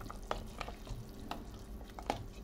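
Water bubbling at a steady boil, a continuous low rumbling wash broken by a few sharper pops and clicks.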